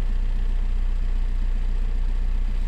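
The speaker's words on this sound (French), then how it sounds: "le comportement du moteur change parce que je suis en train de faire les tests là" A Volkswagen car engine with an injector fault idles roughly under test, a steady low, throbbing drone with a faint uneven shudder running through it and no talking.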